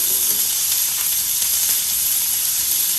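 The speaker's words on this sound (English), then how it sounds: "We're going to flatten these all out on the grill here. Let them start grilling a little bit by themselves." Food sizzles steadily on a flat griddle grill, a continuous bright hiss of frying that stays even and close throughout.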